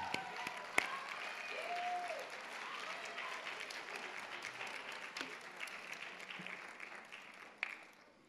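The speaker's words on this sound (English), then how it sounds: "Don't worry, I'll keep clapping, Sharon, for you." Applause at a board of education meeting carries on as a faint, steady patter from a distant audience, with a few sharper claps and brief voices standing out over it.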